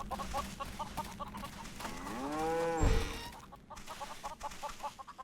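A single drawn-out cow moo from the video game Neverwinter Nights Enhanced Edition sits amid soft, repeated chicken clucks and a farmyard bed, all fairly quiet.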